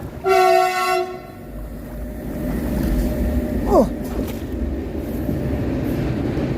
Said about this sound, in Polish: Pociąg jedzie górą.